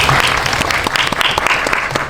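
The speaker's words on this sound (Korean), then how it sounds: "다시 한번 큰 박수 부탁드릴게요." Loud, dense applause from a cinema audience at a film talk event, continuous clapping filling the whole short stretch.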